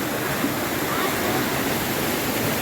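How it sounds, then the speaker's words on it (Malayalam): Seethar Kundu waterfall in Kollengode pours steadily in a dense, continuous roar of rushing water, loud and unbroken throughout with no pauses. "പല പല സൈഡിൽ നിന്നാണ് വെള്ളം വരുന്നത്"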